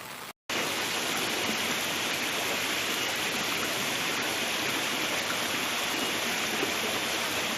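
Floodwaters rushing through Shenyang after a once-in-a-century heavy rainstorm, a dense, steady roar of churning water that starts abruptly after a brief silence and continues unbroken.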